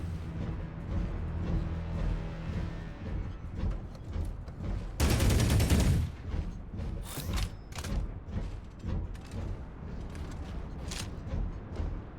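Gunfire from a mech in the video game Hawken Reborn, shooting resource deposits: a loud, short burst of shots rings out midway over steady mechanical whirring and clanking.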